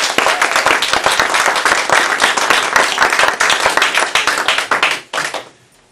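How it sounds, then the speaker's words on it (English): A round of applause from a capstone presentation audience, loud close clapping from many hands in a dense steady burst that thins out and stops near the end. "We'll give them a round of applause."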